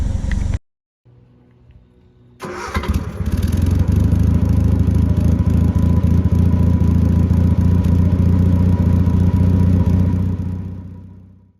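After a brief quiet and a few clicks, a Triumph Spitfire engine fitted with a tuned Weber carburetor catches and settles into a steady, close, rumbling idle that holds evenly for about eight seconds.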